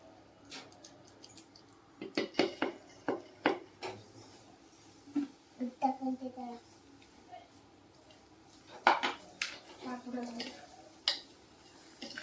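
Gram flour batter for crispy bajji is mixed in a bowl, with irregular clacking and tapping of a utensil against the bowl under intermittent talking.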